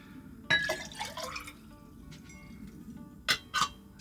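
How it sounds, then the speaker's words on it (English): Water is poured into a moka pot in a quiet motorhome, heard as a few faint splashes, drips and light metallic clinks spread over several seconds with pauses between them. "I'm just putting the right amount of water in so we don't make any waste"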